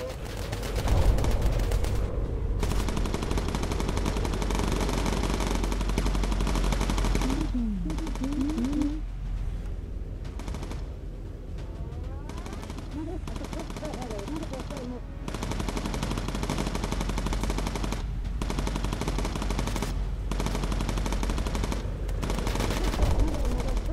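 Sustained machine gun fire from a bomber's turrets shooting down enemy aircraft in the WWII game Bomber Crew, a dense continuous rattle over steady engine drone with brief pauses, loud throughout.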